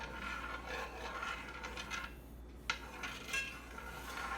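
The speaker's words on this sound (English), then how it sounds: "Give that a good little stir." Honey melting in a cooking pot for historic SCA-style cooking, stirred with a utensil: soft, close rasping and scraping against the pot, continuous and quiet with a couple of small knocks.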